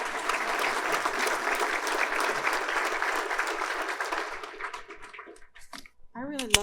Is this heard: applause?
yes